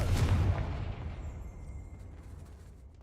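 A Confringo spell explosion in Hogwarts Legacy: one deep, loud boom at the very start that rolls off into a long, fading rumble.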